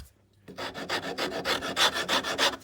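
A knife carves the wood of a guitar neck in a rapid run of about a dozen rhythmic rasping strokes. The scraping is close and fairly loud and follows a brief quiet moment.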